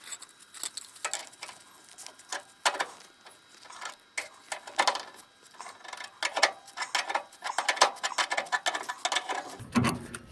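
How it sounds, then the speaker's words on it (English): A wrench turning a pitman arm and tie rod puller on a 1966 Mustang steering linkage, giving irregular close metallic clicks, scrapes and ratcheting bursts with no talking. "So now I just need to get a wrench on this thing."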